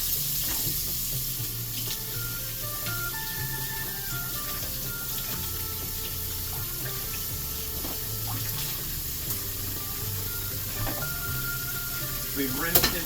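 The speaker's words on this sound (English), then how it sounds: "now we gotta rinse it off in the cold water" Cold tap water runs steadily over instant cold noodles being rinsed in a sink, a constant hissing splash lasting throughout with faint low hum and occasional clinks.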